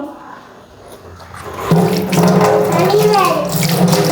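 Rice is washed under a running tap, with water pouring steadily and loudly into a vessel and swirling grains sloshing. The water starts partway in and continues to the end, with a voice faintly underneath.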